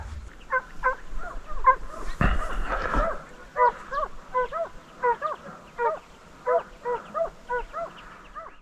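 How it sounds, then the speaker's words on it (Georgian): Hunting dogs bay during a predator hunt for jackal near Tetritskaro, Georgia: a steady series of short, yelping barks at moderate distance, with one brief heavy thump partway through. "ძაღლები ალბათ რაღაცა სხვას უყეფენ."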